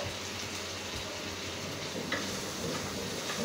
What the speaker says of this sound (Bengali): এবার আমি একটু ভালোভাবে এটাকে নেড়ে নিব।